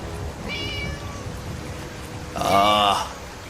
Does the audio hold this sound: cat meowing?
yes